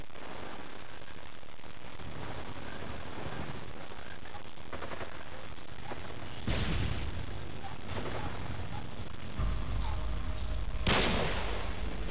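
Flashbang grenades and gunfire in Modern Warfare 2, with a continuous rumble of distant battle broken by two sudden loud, bright blasts, each followed by a muffled ringing stretch.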